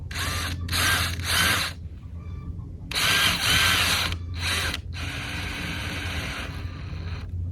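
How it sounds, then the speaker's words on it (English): Electric drill whirring in several bursts as it drills a pilot hole, starting and stopping repeatedly, with a steady running stretch at the end; close and loud. "and we will drill our hole."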